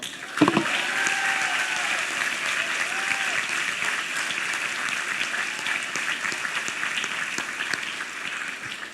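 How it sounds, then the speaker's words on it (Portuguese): A church congregation at a night conference applauds its pastors with sustained, dense clapping. The clapping holds steady and loud for the whole stretch, with no voices rising above it. "Agora vamos aplaudir todos eles"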